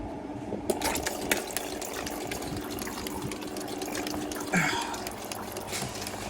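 A fuel injector cleaning machine flushes the injectors of a CNG Toyota Altis on its second wash, giving a steady hissing, splashing liquid spray with a pump-like hum and a few faint clicks.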